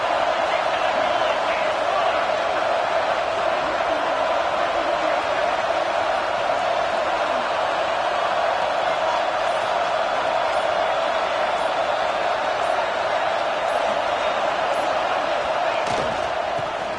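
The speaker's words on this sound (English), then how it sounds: "This crowd trying to make life miserable for this offense." A college football stadium crowd at an Alabama versus Notre Dame game roars as a steady, dense wall of noise from thousands of fans, loud and unbroken, with a commentator's voice faintly audible.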